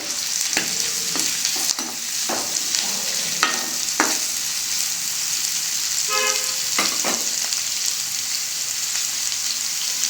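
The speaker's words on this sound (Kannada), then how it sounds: "ಎಣ್ಣೆ ಕಾದಿದೆ, ಈರುಳ್ಳಿ ಹಾಕ್ತಾಯಿದ್ದೀನಿ. ಈರುಳ್ಳಿ ಚೆನ್ನಾಗಿ ಫ್ರೈ ಆಗಬೇಕು." Onions frying in hot oil for a Kannada dish, a steady loud sizzle running throughout with occasional clinks of a spoon stirring the pan, no voices.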